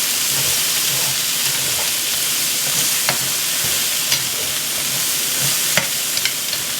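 Garlic, ginger and green onions sizzling in a stir-fry pan for beef and broccoli, a loud steady frying hiss close up, punctuated by a few sharp spatula taps against the pan.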